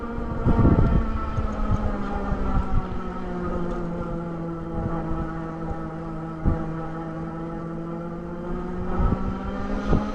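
Retrospec Chatham Rev e-bike hub motor straining up a steep climb, a steady low whine with harmonic tones running throughout, with wind rumble and occasional bumps from the ride, no talking.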